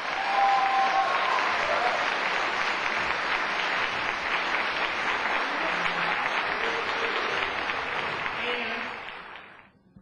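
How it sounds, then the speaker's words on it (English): An audience at a neighborhood poster contest meeting applauds the award winners, a full, steady round of clapping with faint crowd murmur that carries for about nine seconds before tapering off. "let's give every one of these award winners a big round of applause"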